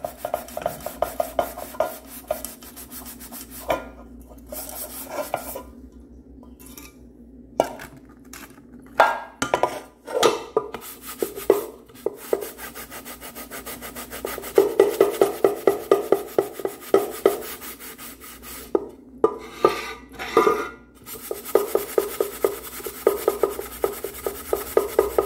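Repeated rough scrubbing strokes of a magic sponge on rusty, dirty metal, rasping in irregular bursts with short pauses, close and fairly loud, no voices.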